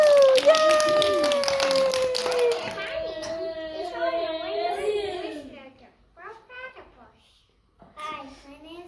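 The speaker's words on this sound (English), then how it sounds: "Give them a round of applause, everybody." Audience clapping after a children's animal habitat puppet show, brief scattered applause mixed with excited children's voices and cheering, then fading into quieter talk and pauses.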